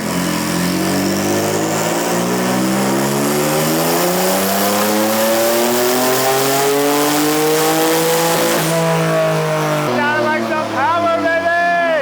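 Single-turbo Kia Stinger on a dyno, its engine revving in one long, loud, rising pull that climbs steadily in pitch for about nine seconds, then drops off and flutters as the throttle closes.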